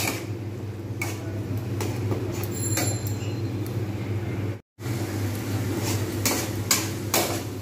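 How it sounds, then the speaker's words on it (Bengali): A spice mixture blended with water is poured into a cooking pot and stirred, with faint scattered spoon clinks and scrapes against the metal over a steady low background hum. "আমি এবারে যে মশলাগুলো মিক্স করে রেখেছিলাম জলের মধ্যে, সেইগুলো আমি এবারে এর মধ্যে ঢেলে দেবো। ঢেলে দিয়ে একটু নাড়বো"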